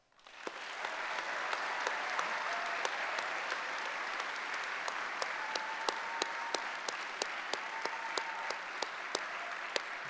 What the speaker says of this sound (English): Please join me in another round of applause.